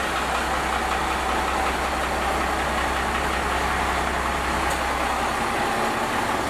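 A second-generation pickup truck engine idles steadily after starting, a close, continuous low rumble with a faint knocking texture and no talk over it.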